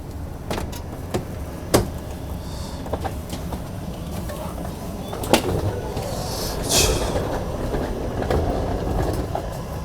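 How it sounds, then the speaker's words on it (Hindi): The Mussoorie Express pulling into Dehradun railway station: a rumbling train with several sharp metallic clanks and knocks from the carriages over steady low noise, heard up close with no talk. "चलिए दोस्तों यहाँ पर जो है अपनी मसूरी एक्सप्रेस पहुंच चुकी है देहरादून रेलवे स्टेशन पे"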